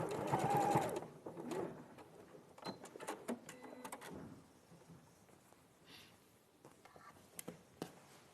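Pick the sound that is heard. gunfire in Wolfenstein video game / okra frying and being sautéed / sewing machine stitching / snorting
sewing machine stitching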